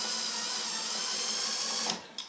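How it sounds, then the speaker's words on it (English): An electric drill runs steadily as it drives screws into a switch plate adjuster, a continuous faint whine that cuts off near the end and is followed by a couple of short clicks. "with the electric drill"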